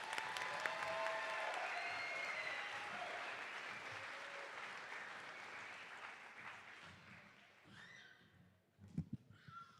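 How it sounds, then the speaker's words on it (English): Audience applause for graduates at a spring college commencement ceremony, a sustained broad wash of clapping that swells loud, thins toward the end, then gives way to a few scattered claps and brief voices. "one more round of applause"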